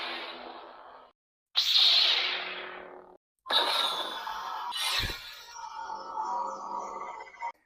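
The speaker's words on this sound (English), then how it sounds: "this lightsaber hosts a wide variety of sound fonts and lighting effects" Several swooshing, humming lightsaber effects in separate bursts, with short silent gaps between them, bright buzzing swings and a sharp clash near the end.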